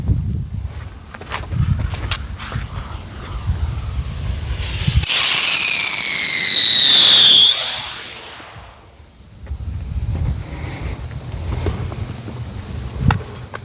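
An aerial spinner firework from Shogun, a Flying Diamond, ignites with a loud, sustained shrieking whistle that slides steadily downward in pitch for about two seconds, then fades away as it climbs, with outdoor wind rumble before and after.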